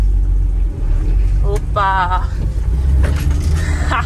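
An ex-Dakar Volvo C303 off-road vehicle drives along with a steady, close engine rumble and a couple of brief whining tones, while a person briefly speaks over it.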